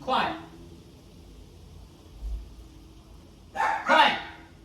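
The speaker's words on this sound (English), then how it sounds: "Sorry about my dogs." Dogs bark in two short loud bursts, one at the start and one near the end, with quiet room tone between them.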